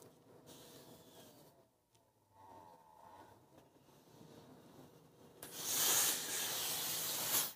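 A steam iron at a quilting ironing station gives a loud, sustained hiss of steam near the end, after quieter low rustling and handling noise, with no talking.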